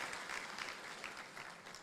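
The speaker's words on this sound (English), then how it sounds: "Let's clap for that." Applause from a conference audience at a renewable energy event, a faint, steady patter of many hands heard from a distance for a couple of seconds.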